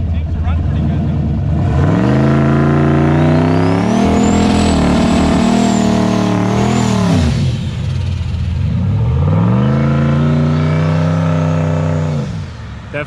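A turbocharged 6.0 LS engine revs hard during a burnout, loud and close, with repeated rising and falling throttle sweeps and a turbo whistle overhead, running continuously for most of the stretch before easing off at the end.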